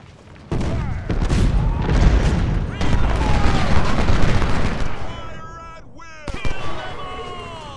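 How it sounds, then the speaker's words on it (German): Cannon and musket gunfire from the Ultimate General: Civil War strategy game: a sustained barrage of booms and crackling volleys, loud and dense, easing briefly before another burst, with a voice speaking over it. "Kanonen, wir brauchen Feuer."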